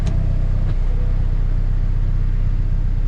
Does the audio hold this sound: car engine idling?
yes